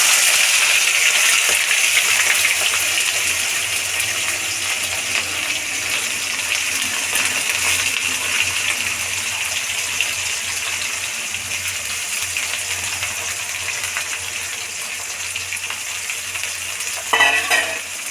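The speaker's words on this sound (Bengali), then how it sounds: "এবার আমরা পেঁয়াজটা দিয়ে দিচ্ছি।" Onions sizzle and fry steadily in hot oil tempered with cardamom in a pan for home-style chicken curry, a dense continuous hiss with occasional stirring scrapes.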